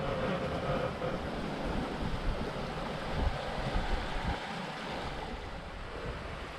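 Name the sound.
sailing boat moving through calm sea water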